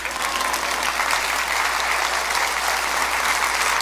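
A church congregation applauds during a Christian sermon: steady, dense clapping that fills the room at even loudness for about four seconds, with no voice over it.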